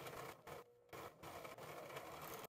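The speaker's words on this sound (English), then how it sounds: "the next step is to overlock the seam" An overlocker runs in short bursts along a dress seam, a steady mechanical whirr with two brief pauses, fairly quiet and close with no talk over it.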